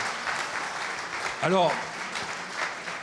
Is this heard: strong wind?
no